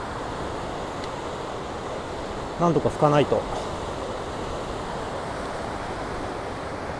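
Rough, stormy sea off the Noto Peninsula coast gives a constant loud roar of surf and wind noise, with a brief spoken remark partway through.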